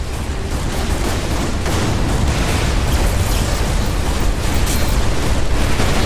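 Torpedo barrage in the space combat game Everspace 2, a loud continuous roar of overlapping explosions and gunfire with deep booms and crackling bursts throughout.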